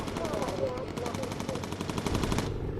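Rapid machine-gun bursts from a bomber's defensive turrets in the aerial combat game Bomber Crew, a dense, steady rattle of shots running nearly continuously before cutting off near the end, with a voice audible underneath.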